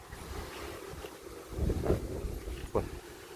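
Dry wind blows through a rural Isan village in Ubon Ratchathani, Thailand. It makes a steady low buffeting rumble on the microphone, with a couple of stronger gusts near the middle and end.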